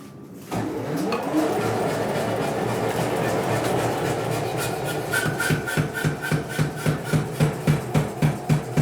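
Hot steel being hammered flat on an anvil during blacksmithing, a steady run of sharp, evenly spaced metallic blows building to a regular rhythm, close and loud over a background roar.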